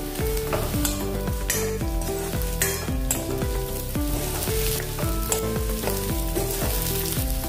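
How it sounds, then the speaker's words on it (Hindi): Steady, dense sizzling of dried red chilies frying in hot oil, close and continuous, with occasional stirring scrapes and a tonal background hum throughout. "अब इसमें हम सूखी वाली लाल मिर्च डालेंगे।"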